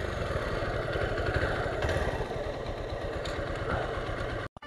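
A Hero XPulse 200 motorcycle engine idles nearby with a steady low throb and faint mechanical clatter, cutting out abruptly just before the end.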